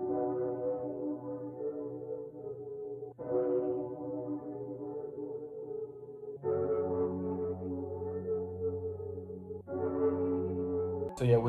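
Sustained piano chords processed with EQ cutting the lows, tape delay and reverb, giving a spacey, washed-out tone; four long chord changes ring on with no talking.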